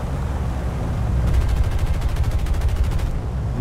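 Rapid, steady machine-gun bursts from a fighter plane in War Thunder, a fast rattling stream of shots riding over a loud, constant engine drone, with no talking.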